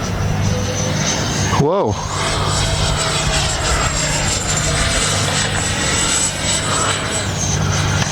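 A FlyFans MiG-25 RC model jet roars loudly and continuously in flight, its whining turbine tone holding steady, with a sharp whoosh as it passes close by and a voice exclaiming briefly.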